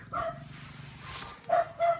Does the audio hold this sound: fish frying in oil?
no